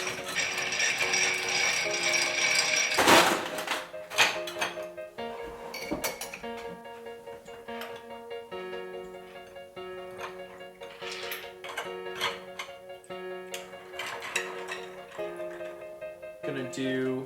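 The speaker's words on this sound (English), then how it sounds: "Add some ice and stir." Ice clinks and ticks steadily as a Manhattan of Old Forester Rye and Cocchi di Torino is stirred in a mixing glass, a rapid rhythmic rattle running throughout with a louder clatter early on.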